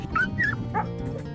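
Izzy the dog gives a piercing scream as she leaves a vehicle. It comes as a few high yelping cries over a steady low background, close and fairly faint.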